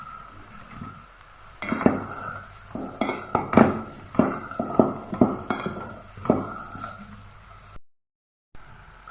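Chicken pieces sizzle in a pot while a utensil stirs them, scraping and clinking against the metal in a series of close, rhythmic strokes over a constant frying hiss, then a brief gap of silence near the end.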